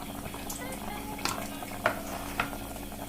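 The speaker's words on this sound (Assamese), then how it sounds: "দেখিবলৈ পাইছে মাংসখিনি ধুনীয়াকৈ উতল আহি আছে" Chicken boils in a pot, giving a soft, steady bubbling with a few sharper pops and clinks of a spoon or lid, heard close up under a continuous low kitchen hum.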